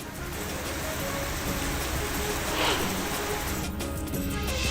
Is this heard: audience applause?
no